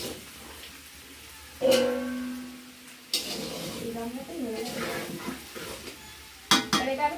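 Fried potato pieces for Bengali aloo dum are lifted from a hot pan with a utensil, bringing scraping and clinking metal over low sizzling, with a few sharp knocks, while a person talks alongside.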